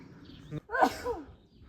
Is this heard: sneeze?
yes